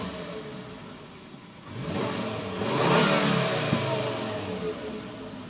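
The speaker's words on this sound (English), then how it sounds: "It's a very rev-happy engine." A 2011 Volvo S40 T5 engine revs up from idle, climbing to a rising mid-pitched roar that peaks and then holds and settles, heard from nearby with no talking.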